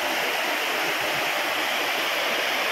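Vadattupara waterfall in Kothamangalam, a steady broadband roar of falling water, loud and close, constant without pauses and with no voices.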